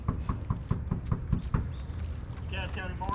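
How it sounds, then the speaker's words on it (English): Marshals knock on a door while serving an eviction: a steady run of about eight firm, evenly spaced raps, followed by a voice calling out near the end. "knock on the door"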